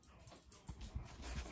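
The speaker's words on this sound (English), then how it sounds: "and that's my dog." A dog makes a few faint, short whimpering yips close by, soft and spaced out in an otherwise quiet room.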